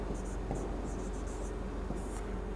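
Chalk or a marker scratches across a board in short, uneven strokes during a dice lesson, quiet beneath a steady background hum.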